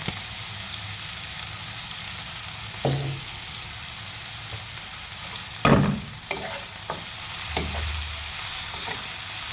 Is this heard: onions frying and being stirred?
yes